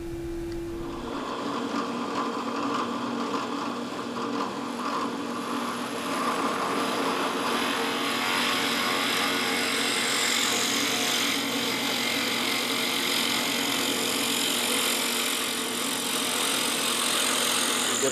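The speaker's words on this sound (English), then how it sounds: "We will start by drilling out this pen blank and gluing in the pen tube." A drill bores out a stabilized pen blank with a continuous, loud mechanical whine and grinding hum that runs steadily for the whole stretch, close up and alone.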